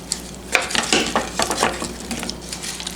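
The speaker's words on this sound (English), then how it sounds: "So we'll give everything a good stir it around." A spoon stirs cheddar cheese and potatoes in a crock pot, making close, irregular scraping and wet squelching strokes. The strokes come in uneven bursts of moderate loudness.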